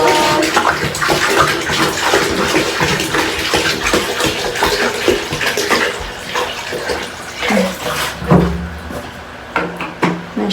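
A household shower runs, water splashing and pattering unevenly with occasional knocks and bumps, fairly close and moderately loud, with no clear talk over it.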